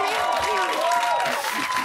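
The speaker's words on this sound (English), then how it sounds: "Give it up for Emma Willis." A television studio audience on a Celebrity Big Brother UK spin-off show breaks into loud, dense applause with cheering voices mixed in, filling the room in a brief sustained burst.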